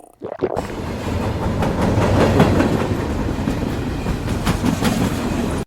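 A train runs along the rails with a loud, steady rumble and repeated clickety-clack from the wheels, heard up close from the start.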